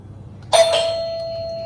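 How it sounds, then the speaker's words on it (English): A single electronic doorbell chime rings out clearly, its tone lingering and slowly fading after a moment of quiet. "See, somebody came, doorbell."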